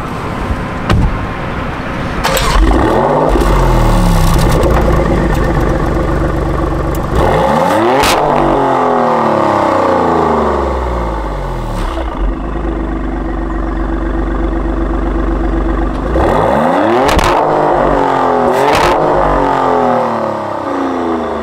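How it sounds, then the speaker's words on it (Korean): A Maserati Grecale Trofeo's 3-litre V6 turbo engine with an 8-speed automatic pulls hard in repeated loud accelerations, each rising roar cut by a quick upshift, heard from inside the car with no talking. "이 차의 파워트레인은 3리터 V6 터보엔진과 8단 자동변속기로 조합이 됩니다"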